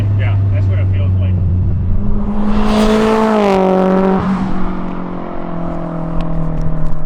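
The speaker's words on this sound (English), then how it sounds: "That thing sounds freaking good. It has like a throatiness to it. It's like freaking growls." Turbocharged Acura RSX with a full exhaust accelerating hard, a rising throaty growl that climbs in pitch and then settles, loud and close, with a low drone behind it and people talking over it.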